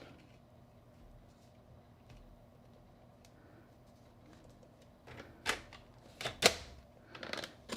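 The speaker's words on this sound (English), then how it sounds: "I'm gonna cut from the pencil mark down, take my time, and that should be released" Scissors snip through paper along a pencil mark on a handmade triangle gift box, a quiet stretch followed by several crisp, close cutting crunches near the end.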